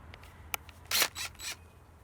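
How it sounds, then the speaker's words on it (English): Chuck of a small power drill being hand-tightened, giving a few quick, close ratcheting clicks in short bursts, quiet and with no talk. "keep tightening it till we hear those clicks and we know it's really nice and tight"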